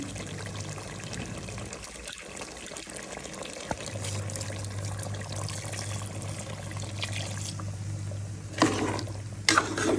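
Water poured into a pot of beef and potato curry after the spices are fried down, a steady close splashing pour with a few louder knocks near the end.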